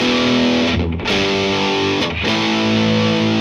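A heavily distorted electric guitar plays a thick, sustained heavy rock tone with chords ringing out. Two brief dips mark chord changes, and the playing is loud, close and continuous with no talking.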